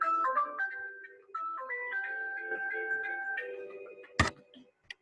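A phone ringtone plays a tinkling, music-box-like melody of bright repeating notes at moderate volume, ending with a sharp click.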